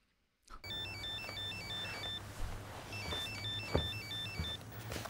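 A phone ringtone begins abruptly after a brief silence and repeats a quick, bright electronic melody twice, loud and near, over low background rumble with a few soft knocks.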